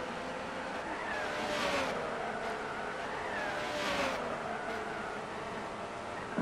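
Race car engine droning steadily in Gran Turismo 6 online racing, with rising and falling revs as cars sweep past over a hill, sustained and fairly loud with no talk.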